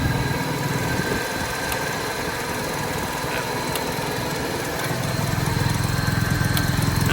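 A Honda Accord automatic's engine idles steadily and close, a continuous rough rumble with a faint mechanical ticking running throughout.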